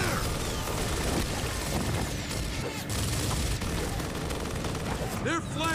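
Rapid bursts of automatic gunfire crackle from a Gears of War firefight, dense and continuous over a busy battle mix, with a shouted voice heard among the shots.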